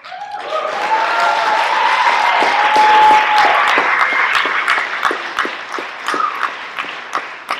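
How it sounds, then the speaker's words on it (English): A crowd at a Hurricane Katrina memorial event claps steadily, dense applause swelling then thinning into scattered individual claps, with a brief ringing tone early on. "Thank you very much for the hand of applause"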